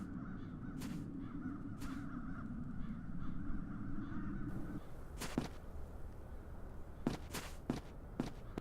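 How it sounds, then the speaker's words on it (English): Crows cawing in the adventure game The Dark Eye: Chains of Satinav, several harsh caws spaced out across a steady outdoor ambience, then a quick cluster of sharp calls near the end. "Those peculiar crows."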